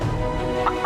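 Fowl in a 2013 legend drama scene make a few short clucking calls over a steady background bed, two brief higher calls near the end standing out at moderate loudness.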